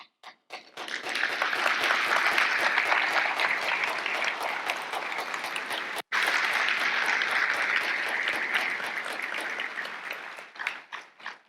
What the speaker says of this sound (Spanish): merecen todo nuestro respeto y nuestro aplauso